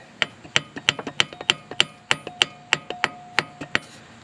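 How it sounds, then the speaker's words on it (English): A brass hammer taps on the lift arm housing of a New Holland TN70 tractor during seal repair: roughly a dozen sharp, ringing metallic pecks in a quick, uneven rhythm, close and alone. "So what I do is take a brass hammer and I turn it"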